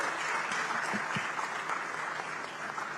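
Steady audience applause at a cultural conference session, a dense even wash of many hands clapping that holds for about three seconds.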